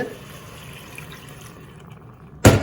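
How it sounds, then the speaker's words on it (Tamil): Water poured into a pot of chicken curry gives a steady, soft liquid hiss and trickle, then a sudden loud splashing burst right at the end. "இப்போ வந்து ஓரளவு தண்ணி விட்டுட்டு"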